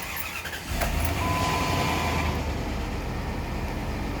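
A 2005 Dodge Ram pickup with the 4.7-liter V8 and nearly 300,000 miles, running steadily after a random-misfire repair, giving a loud, close, continuous engine hum with a brief rise near the start.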